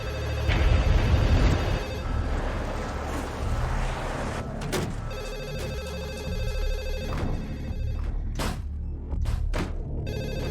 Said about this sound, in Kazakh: Бол, телефонға жауап бер.